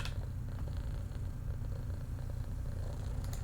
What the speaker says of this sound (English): I get all the purrs.